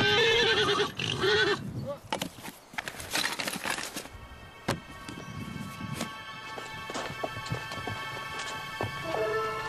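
Horses on a nomad trek in Mongolia, loud and close, with a sharp whinny at the start and another near the end, separated by thumps, shuffling and a few bright knocks.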